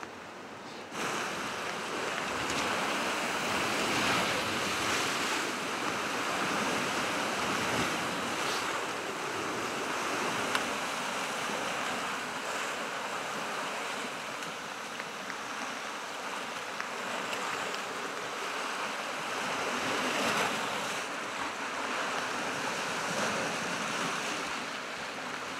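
Rough sea waves break against a rocky shore on the Sadamisaki Peninsula, a steady, close roar of surf with repeated crashing swells and gusting wind buffeting the microphone, with no talk.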